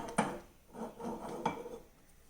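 Grated carrot stirred into a cooking pot, with a few close scraping and rubbing strokes of a spoon against the pan over about two seconds.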